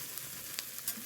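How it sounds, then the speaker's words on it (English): Onions sautéing in a pan to brown, a brief soft sizzling hiss with a few light pops and crackles, close and fairly quiet. "saute these onions until they're browned."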